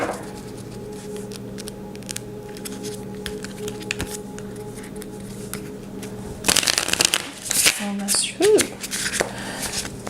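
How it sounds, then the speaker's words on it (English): Tarot cards shuffled by hand during a reading, with soft riffling under faint background talk, then a louder, clattering burst of shuffling and card snaps close to the microphone. "That was an awful shuffle."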